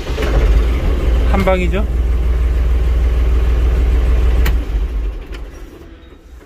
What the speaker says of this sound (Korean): 시동 한번 걸어보겠습니다